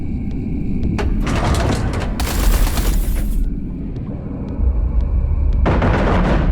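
Heavy artillery fire and gunfire in the space combat game Everspace 2, a loud continuous barrage of booms and rattling shots with bursts of bright crackling, no talking.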